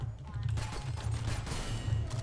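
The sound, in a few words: mortar fire in video game Synthetik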